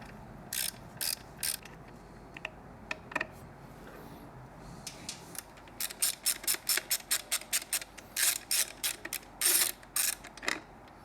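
Small ratchet loosening a 5mm hex-head rear bolt on a liquid-cooled 2016-up Triumph motorcycle, with a few scattered clicks followed by rapid bursts of close, crisp ratcheting.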